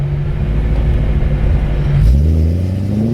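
BMW E90 M3 with an Akrapovic exhaust pulling hard, loud and close from inside: a deep steady engine drone climbing in pitch, a brief break as it shifts near the end, then rising again, with no talking.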